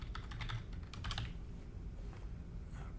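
Steady, quiet tapping of keys on a computer keyboard as a password is typed for a Linux install, with a soft continuous run of clicks and no talk.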